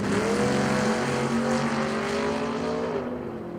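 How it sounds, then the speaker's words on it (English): A Camaro and an El Camino drag race car launch together at a big-money drag racing event, engines roaring at high revs close by and fading slightly as they pull away. "Out of the gate we go."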